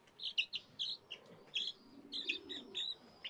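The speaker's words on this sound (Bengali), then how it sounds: "পাখি।" Small birds chirp in quick, bright bursts of tweets, fairly close and repeated throughout, with a low murmur of background noise underneath.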